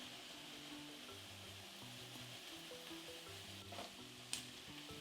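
Ginger and garlic frying with browned onions in a pan for a chicken coconut curry, a steady soft sizzle with a brief clatter of stirring near the end.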